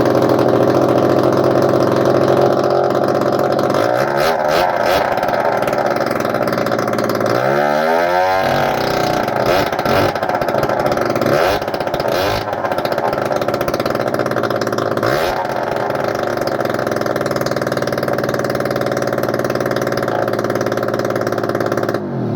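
A Honda AF09 scooter fitted with a swapped-in AF18e two-stroke engine runs with its choke on and an unfinished exhaust, idling loudly and continuously with several rising revs and dips throughout.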